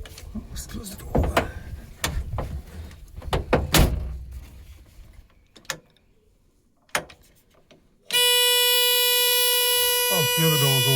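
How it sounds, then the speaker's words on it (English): Door of a VW Type 2 van under restoration being shut, heard as a few close clunks and rattles with one solid thud, followed by quiet and then a loud, steady electronic tone. "Let's close the door."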